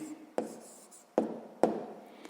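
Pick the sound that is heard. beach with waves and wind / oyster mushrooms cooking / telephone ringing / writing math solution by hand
writing math solution by hand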